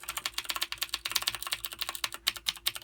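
A rapid run of sharp, clicky keystrokes on a Rosewill mechanical gaming keyboard with Cherry MX Blue switches, heard up close and alone, with no voices.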